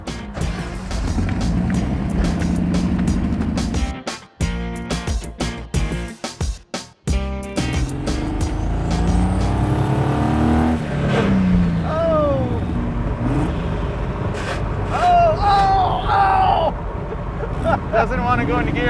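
A Chevy-powered 1971 Datsun 240Z autocross car with a junkyard turbo swap rumbles and revs while driving, its exhaust note rising and falling under occasional talk, broken by sharp clunks and gaps around gear changes.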